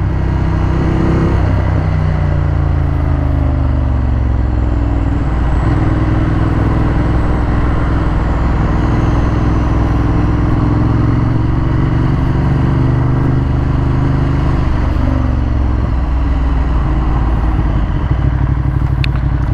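Steady engine drone from a 2015 Ducati Monster 1200S motorcycle while riding, loud and continuous, with rising and falling rev tones and heavy wind rush throughout.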